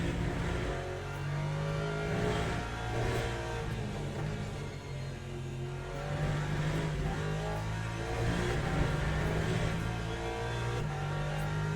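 A race car in the Le Mans Ultimate racing game at Sebring drops down to third gear, its loud engine droning steadily with rising and falling revs throughout.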